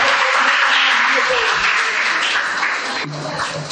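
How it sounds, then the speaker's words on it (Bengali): An audience at a school impromptu speech competition applauds a student speaker, loud, dense clapping that fills the room and slowly tapers off toward the end. "প্রদীপ্তের জন্য একটু জোরে হাততালি হোক"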